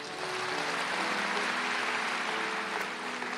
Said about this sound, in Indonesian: Hargai mereka, kasih tepuk tangan untuk mereka semuanya